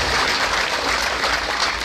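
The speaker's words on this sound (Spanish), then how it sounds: "Que se escuchen los aplausos." Audience applause at an elementary school ceremony in San Juan Colorado, a short burst of dense, loud clapping from a crowd.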